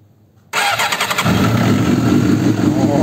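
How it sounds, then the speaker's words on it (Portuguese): Silence, then a 2006 SRAD 750 sport motorcycle engine cranks and fires up, settling into a loud, steady, rumbling idle close by. "Deixa eu ver se eu consigo dar partida nela aqui"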